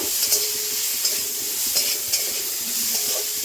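Spices fry in oil as turmeric is stirred in, a steady close sizzle broken by periodic scrapes and taps of the spoon against the pan.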